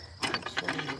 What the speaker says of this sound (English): see the actual ratcheting